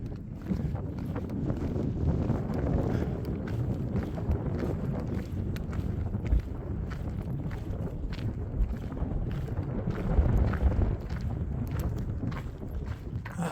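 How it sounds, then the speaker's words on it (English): Steady wind buffets the microphone while someone walks along a dirt road, a continuous loud rush with faint footsteps beneath it and no talk. "I've just been walking into the wind for the past 10 miles, man"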